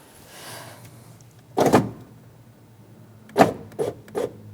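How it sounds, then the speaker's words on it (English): A power window motor in a Fiat 500 door runs briefly, then a few sharp clunks and thumps follow as the glass seats in its raised position, close and fairly quiet, with no talking. "now you can test your window to make sure it's up in the locked position"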